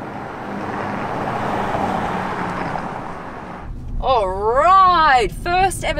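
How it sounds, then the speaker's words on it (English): A 2020 Land Rover Defender First Edition drives with a steady broadband road and engine rumble, which drops away as a person starts talking over a quieter background. "First ever drive of the 2020 Defender."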